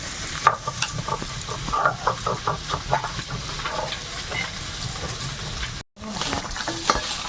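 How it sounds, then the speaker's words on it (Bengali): Small chuno fish frying in oil in a wok, a steady close sizzle with repeated scraping stirs of a spatula, one brief dropout near the end before the crackling frying resumes. "মাছগুলো ভাজা হয়ে গেছে উঠিয়ে নেব এই চুনো মাছ ভাজা"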